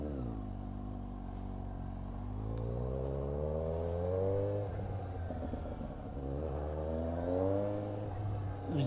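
A Suzuki GSX-S 750 motorcycle engine revs and pulls through the gears during a ride, its rising and falling harmonic drone steady and close, with wind noise underneath.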